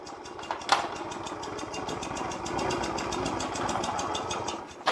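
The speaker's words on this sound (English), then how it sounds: "to just slowly make the engine spin and use the decompression valve that will make the engine easier to spin" A Velo Solex 5000 moped engine turned over slowly with its decompression valve open gives a steady, close mechanical chugging and whirring, with a sharp click near the start and another at the very end.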